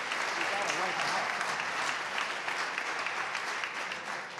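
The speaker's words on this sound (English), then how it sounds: "Now, I know some of you got to clap to this one." Sustained applause fills a large chamber as an audience at the Virginia governor's State of the Commonwealth address claps steadily, a dense, even wash of many hands without a break, while a voice may be faintly present underneath.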